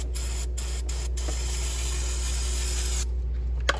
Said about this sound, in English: So I'm gonna try to spray this down real good.